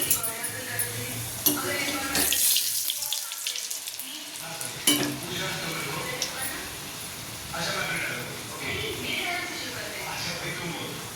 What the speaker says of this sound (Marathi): आता घेते मी पुरी तळायला.